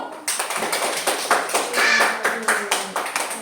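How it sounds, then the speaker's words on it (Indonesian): A class of schoolchildren claps hands in a classroom after a group presentation, a rhythmic, fairly close patter of many palms in repeated bursts with faint voices underneath. "Tepuk tangan dulu."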